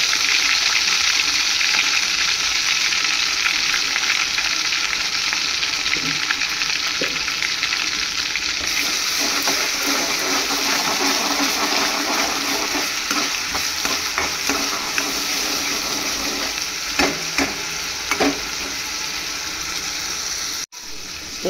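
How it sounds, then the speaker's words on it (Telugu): Masala paste for a fish curry sizzles and fries steadily in a pan, with stirring scrapes and occasional bursts of crackling throughout, loud and close with no voices. "బాగా పచ్చివాసన పోయేదాకా వేయించుకోవాలి."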